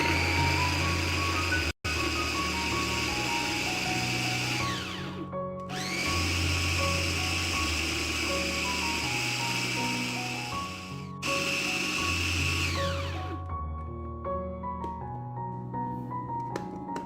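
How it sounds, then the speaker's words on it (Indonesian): A Mitochiba CH200 electric chopper mashes hot cooked potatoes with a loud, whirring motor drone in three long runs, each stopping briefly before starting again, with music underneath. "Untuk menghaluskan kentangnya, saya gunakan chopper CH200 dari Mitochiba."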